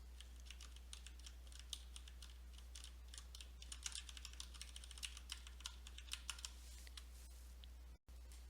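Quiet close-up clicking of a computer keyboard as Shift and arrow keys are tapped in Excel, scattered light keystrokes over a low steady hum.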